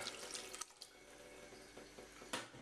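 Tap water running over about 450 grams of beans in a kitchen, a steady close stream with a few louder gushes and splashes, no voices.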